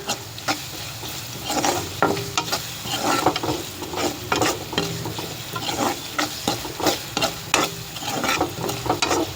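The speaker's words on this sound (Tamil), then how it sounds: "நல்லா ஒரு 5 மினிட்ஸ் வதங்கணும்" Avarakkai masala being sautéed in a pan for thokku: a lively sizzle under repeated, irregular scrapes and stirs of a spatula, close and moderately loud, with no speech.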